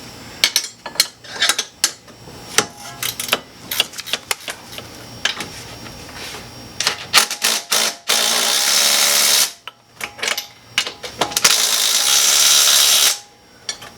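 A bottom nut is tightened during installation of adjustable camber plates on an Isuzu Stylus: rapid metallic ratchet clicks and taps are followed by two loud, sustained whirring bursts from a power tool.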